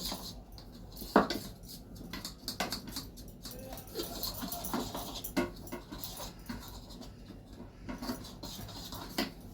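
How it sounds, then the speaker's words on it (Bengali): Cornflour batter for battered brinjal is beaten in a bowl, making quick, uneven clinks and taps against the bowl's side, close by, over a low room hiss. "এবার এটাকে ভালো করে ফেটিয়ে নেব"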